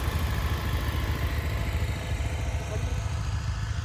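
A motorcycle engine runs outside a hotel in the cold mountain air at minus six degrees near Lo Manthang, giving a close, steady, even rumble of idling throughout.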